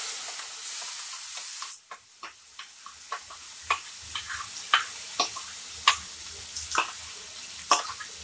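Blended green mango paste fries in a pan for a chutney, with scattered light ticks and crackles over a soft sizzle, close and fairly loud, after an initial burst of hissing.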